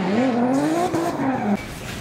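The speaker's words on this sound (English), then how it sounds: "now let's get to the drifting" A drifting car with a loud, rising tire squeal and engine howl sweeping upward for about a second and a half, then cutting off to a lower rumble, close by.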